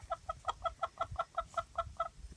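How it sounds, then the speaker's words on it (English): A steady run of about a dozen short chicken clucks, evenly spaced and fairly close, with low rumbling noise underneath. "My chickens are having something to say about this too."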